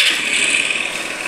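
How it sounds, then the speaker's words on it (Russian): Scooter engine held at a 4000 rpm rev limiter, a loud, steady high-pitched buzzing drone that stays flat without climbing further. "В данный момент на 4000 оборотов скутер будет работать."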